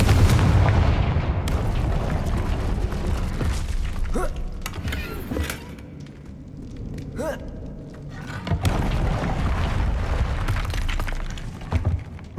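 Confringo fire spells in the Hogwarts Legacy video game burst in a string of loud, booming explosions with crackling, shattering debris, dense at the start, easing off midway, then rising again toward the end.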